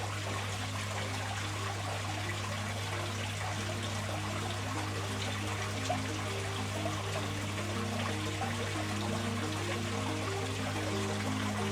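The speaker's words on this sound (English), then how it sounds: "I'm going to slowly pour this in now" Mud and water poured slowly into an aquarium: a soft, continuous trickle and dribble of liquid, close and steady for the whole stretch, over a constant low hum with no talking.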